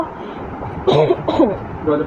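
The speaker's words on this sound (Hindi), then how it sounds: "मुझे खांसी आ रही है" A couple of short coughs or throat-clearing sounds break through a steady background hum, close to the listener.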